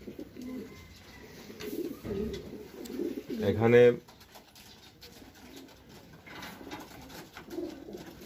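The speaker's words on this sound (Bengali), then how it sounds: "কবুতর দেখানোর চেষ্টা করি।" Pigeons cooing in a racing-pigeon loft, low throaty coos rising through the clip with one loud close burst, while someone talks intermittently over them.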